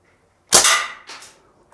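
A single sharp shot from an Umarex Steel Strike CO2 blowback BB rifle outdoors, followed by a brief mechanical clack of the blowback action, close and fairly loud.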